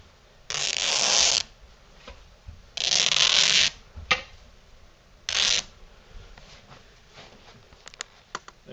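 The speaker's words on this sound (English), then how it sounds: "grab onto this side, make sure that you're close enough but not over the edge, and just kind of" Canvas material torn by hand along an edge for a gallery wrap, heard as three short, close ripping bursts followed by softer handling rustles and small clicks.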